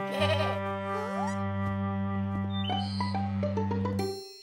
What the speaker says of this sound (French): N'aie pas peur, Mousseline, c'est des moutons